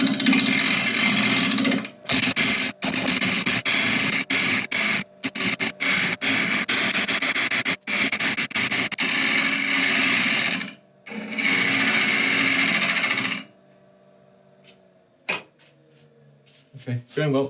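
A wood lathe turns a mallee hedgehog burl, giving a loud, continuous broadband grinding roar broken by brief cutoffs, then spinning down near the end to quieter knocks and light handling sounds.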